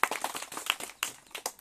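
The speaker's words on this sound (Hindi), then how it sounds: "सब लोग तालियां बजाए।" Audience clapping at a comedic magic show by a multi-character performance troupe, with brisk, uneven hand claps at close range forming a short, lively patter of applause with no talk.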